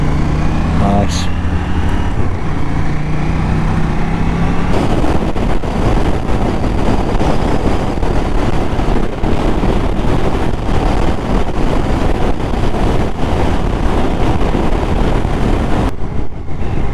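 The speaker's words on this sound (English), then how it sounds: "that wind is really not too bad at all" Riding a 2019 KTM Duke 790 motorcycle brings a loud, constant roar of wind buffeting the microphone, blended with the engine's drone, with only slight shifts in intensity.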